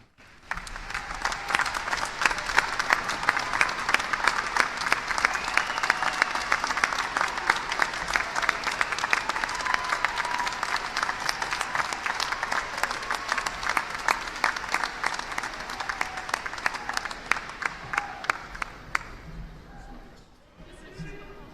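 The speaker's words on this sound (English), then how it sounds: "our graduates may show their appreciation by a round of applause" A large audience at a university commencement ceremony breaks into long, dense applause for graduates' parents and families. It builds quickly, holds steady for most of the stretch, then fades to scattered claps near the end.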